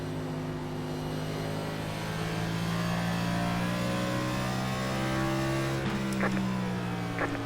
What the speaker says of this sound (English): This motor's kind of loud.